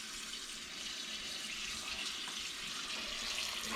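Water runs steadily from a tap into a pot to cover chopped cod in a kitchen with an antique wood cookstove, a continuous close splashing rush with no pauses.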